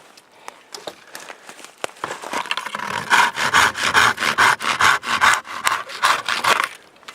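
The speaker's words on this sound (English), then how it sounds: "This saw here is kind of a pull" A Fiskars pruning pull saw cutting through logs outdoors: sparse scrapes at first, then a steady run of about a dozen loud, rhythmic rasping strokes, close and clear.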